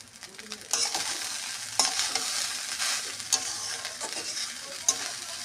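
Cooked rice with sugar fries in a pan while a spatula stirs and scrapes it, giving a continuous soft sizzle broken by sharper scraping clicks every second or so, close and alone.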